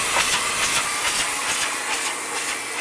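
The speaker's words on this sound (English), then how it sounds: "as it travels through the twist, you'll see there's a little air cleaner with a deionizing system" A constant broadband hiss of air blowing from the deionizing air cleaner on a Kalish Kalisort 100 bottle unscrambler fills the space, close and loud, with light repeated rattling of passing bottles beneath.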